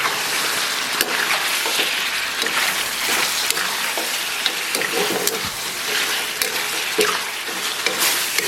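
Pork ribs and glass noodles stir-fry in a hot wok with scallion and garlic, giving a steady, close, loud sizzle with scattered crackles and occasional clinks of a spatula throughout.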